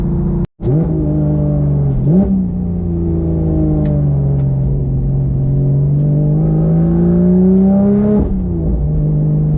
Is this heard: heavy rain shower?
no